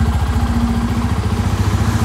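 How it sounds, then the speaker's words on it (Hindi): A 250cc motorcycle engine runs in gear with a loud, close, rapidly pulsing thump, steady throughout and with no voices. "इस बाइक में देखो पावर कितनी है, गियर डाल दिया"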